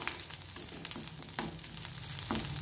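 Garlic and onion frying in oil for a pea and potato dish, a low steady sizzle with a few soft stirring taps, close and quiet, without speech.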